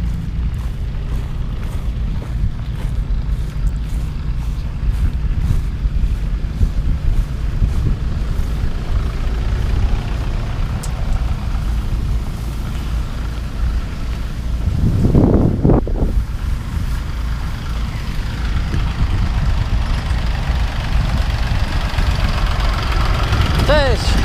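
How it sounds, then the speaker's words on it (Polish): A small farm tractor engine idles and runs steadily nearby in a harvest field, a low continuous rumble with wind buffeting the microphone and a brief louder surge midway. "taki mały sobie ciągniczek do takich właśnie zagrabiarek"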